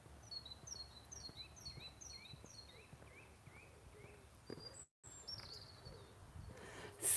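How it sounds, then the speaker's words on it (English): A robin sings close by outdoors on a walk, repeated short high chirping phrases coming in rapid series, fairly clear over a low background rumble and a few soft footsteps. "We've got a robin right close."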